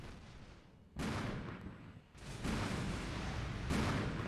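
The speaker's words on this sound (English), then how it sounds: "We just got airstruck ourselves." Airstrike explosions land in the Armored Brigade war game. Three dense, crackling bursts of blast and rumble hit at intervals and stay moderately loud, with sustained noise between the impacts.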